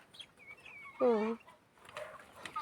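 Chickens tipped into water give a short, loud squawking cluck near the middle, with fainter fluttering and scattered bird noises around it at a low overall level.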